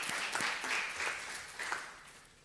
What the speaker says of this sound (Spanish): Pues sí, aplausito.